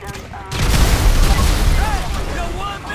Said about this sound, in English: Cause some physics explosions and stuff.